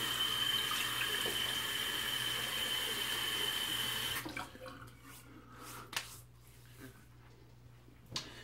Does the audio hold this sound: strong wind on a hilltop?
no